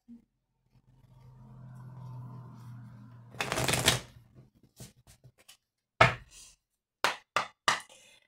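Oracle cards being shuffled by hand: a soft rustle builds, then a burst of riffling followed by several short, sharp card slaps and taps, quiet and close with no talking.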